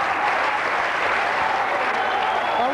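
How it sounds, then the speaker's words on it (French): A TV studio audience on a French talk show applauds a guest, sustained dense clapping at a loud, even level from start to finish. "Vous pouvez l'applaudir debout, c'est un grand bonheur."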